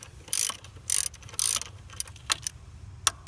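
A ratchet loosens bolts while the alternator is removed from a 2003 Ford F150 with a 4.6 V8: three quick bursts of close, sharp clicking, then scattered single clicks and taps, with no speech.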